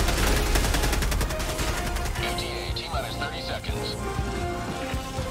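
Rapid automatic fire from a sentry gun in Helldivers 2, a dense burst of shots that thins into scattered pops and chatter over the rest of the clip, with other game noise mixed in.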